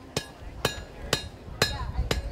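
A blacksmith at a folk festival hammers hot metal into a nail blank, striking five sharp, evenly spaced blows that each ring briefly against a quiet background.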